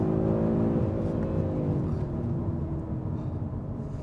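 An Audi RS3 five-cylinder engine revs and pulls hard with a rich, warbling tone, harmonics sliding as it accelerates; loud and close, no talking.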